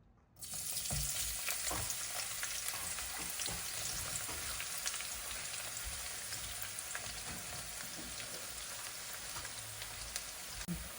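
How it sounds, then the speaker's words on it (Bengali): Onions for beresta hit very hot oil with a sudden burst, then a dense, loud, continuous sizzle and crackle that holds steady close up. "তেল একদম ভালো মতো গরম হওয়ার পরে এর ভিতরে হচ্ছে পেঁয়াজ বেরেস্তার জন্য পেঁয়াজগুলা ছেড়ে দিব"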